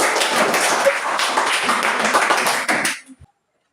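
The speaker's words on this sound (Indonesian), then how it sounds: "Kita berikan tepuk tangan untuk" Applause for the first group at a group presentation event, dense clapping from a crowd that continues for about three seconds, then stops abruptly into near silence.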